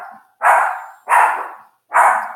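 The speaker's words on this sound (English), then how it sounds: "I have a great little Yorkie who, the moment he hears a noise, he feels the need to announce himself" A small Yorkshire terrier barks three times in an even rhythm, sharp high yaps close by with short pauses between.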